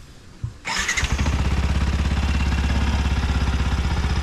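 A motorcycle that had sat unused for a while is started: a short cranking clatter, then the engine catches and settles into a loud, steady, close idle.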